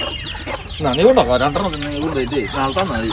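Mother hen with her chicks clucking agitatedly up close, loud repeated clucks with faint chick peeps, over a noisy outdoor background.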